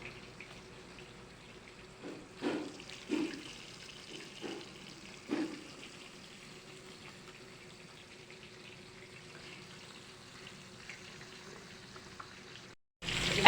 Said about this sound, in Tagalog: Ayan po, namumulak-mulak ng siling pula at siling green.